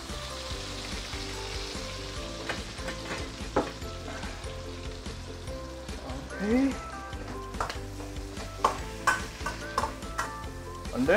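Double cooked pork sizzles in a wok as sugar and Shaoxing wine go in, with a steady fry under scraping stirs and sharp spatula clinks, while a person talks throughout.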